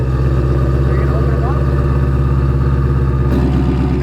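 A 2019 Mustang Shelby GT350R idles with its exhaust in quiet mode, a deep, steady engine rumbling loudly and evenly with a throbbing low burble; faint voices are heard briefly over it.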